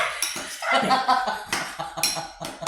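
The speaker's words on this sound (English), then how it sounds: "you just put it in, not too much, because you got to start stirring it up" Potato salad dressing made with apple cider is stirred in a bowl, giving clinks and scrapes of a utensil against the dish in an irregular rhythm, close and fairly loud, with a brief chuckle among them.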